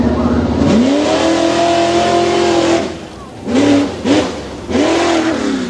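A big Windsor-powered Ford tuff truck revs hard at a Hughesville tuff truck event, a long rising roar followed by several sharp throttle blips close by, with a voice talking over it.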